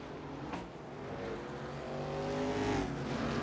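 A Nationals race car spins in the iRacing sim at Lanier, its engine droning and shifting pitch, rising in loudness toward the end with a faint tire-scrub edge, no voices.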